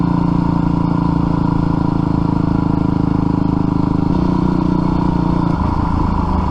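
Dirt bike engine running loud and close throughout, a steady rumbling drone with a slight shift in pitch near the end, with no voices.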